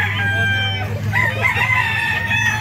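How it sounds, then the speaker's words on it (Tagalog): A fighting rooster at a gamecock market in Lipa, Batangas crows loudly and close by, a long drawn-out call with harmonic overtones over a steady low hum. "Ganda ng manok."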